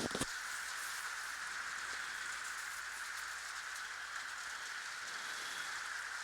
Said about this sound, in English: Can y'all hear this rain? I'm in my sunroom and it's raining pretty hard.